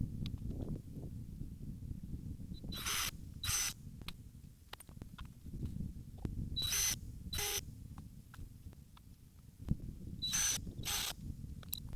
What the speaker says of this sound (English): Now I'm going to go ahead and put these 3 boards on top of those 3 boards and get those screwed down.